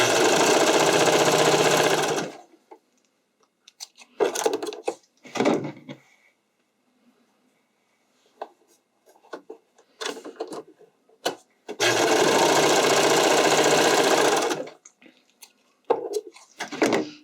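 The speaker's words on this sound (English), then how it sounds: "So I'm sewing the side seams now." Sewing machine stitching the side seams of a figure skating skirt in two long, loud bursts of rapid whirring, separated by quieter handling clicks and fabric rustles nearby.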